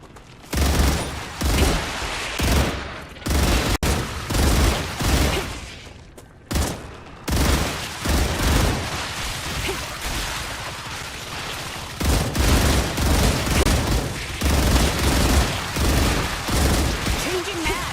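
Rapid gunfire in the sci-fi video game StarRupture, with dense bursts of automatic shots repeating through the clip and brief pauses between volleys, loud and close.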